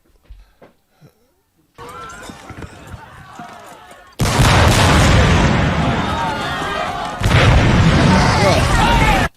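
Heavy cannon fire erupts in sustained booming bursts after quieter early moments, loud and continuous, in a battle scene from the film Gangs of New York.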